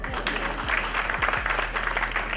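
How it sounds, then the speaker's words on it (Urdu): Audience at a leadership talk applauding steadily for a couple of seconds, a dense even patter of many hands clapping at moderate volume with no voices. "بھائی رایان کے لیے تالیاں ہو جائیں"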